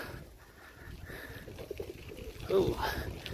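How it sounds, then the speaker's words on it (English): A pigeon coos briefly near a lakeside bike path, a short soft call rising out of steady outdoor background noise along with some talking. "Hello, pigeon."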